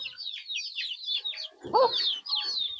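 A sick hen that is not eating clucks close by in a quick series of soft, throaty notes, then gives a louder squawk partway through.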